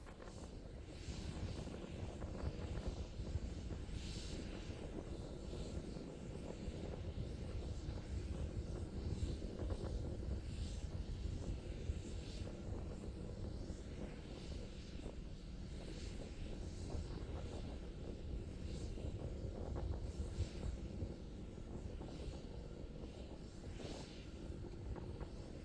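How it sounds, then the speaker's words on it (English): Starship prototype rocket engines firing during ascent, a continuous distant roaring rumble with faint crackle that holds steady throughout, no talking. "continuing to climb on power of 2 engines"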